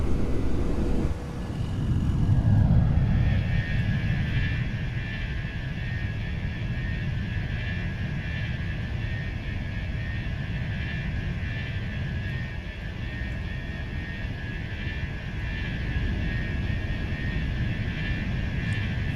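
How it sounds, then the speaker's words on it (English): Airbus A321 jet engines in a flight simulator climb out after takeoff from Atlanta, giving a loud, steady roar with a constant high whine that carries on evenly for the whole stretch. "Very nice departure here from Atlanta. All right, and thrust climb is set."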